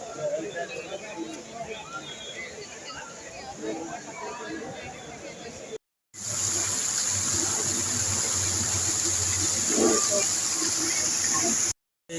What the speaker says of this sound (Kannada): ಇದು ನೋಡಿ ಕಾರಂಜಿ, ನೀರಿನ ಕಾರಂಜಿ ಭಾಳ ಅದ್ಭುತವಾಗಿ ಮಾಡಿದ್ದಾರೆ.